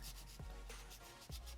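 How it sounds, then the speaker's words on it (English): Abrasive sanding across a resin and wood knife handle, a steady broadband rasp with rhythmic back-and-forth strokes and a few brief knocks, close and continuous with no talk. "And now the fun part, lots of sanding."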